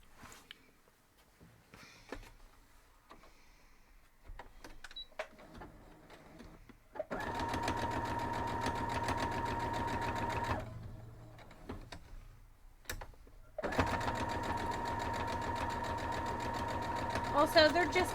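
A sewing machine stitches holiday fabric coasters in two steady, whirring runs of rapid needle rhythm, with quiet handling and talk in the gaps before each burst.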